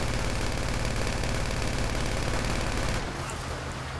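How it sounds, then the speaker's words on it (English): Sustained rapid automatic gunfire in GTA 5 Online, a dense continuous rattle over a low engine drone for about three seconds before it thins out. "Am I shooting all the prisoners?"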